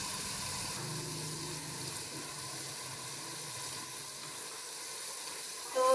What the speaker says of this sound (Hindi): मसाले को अच्छी तरह से भून लिया है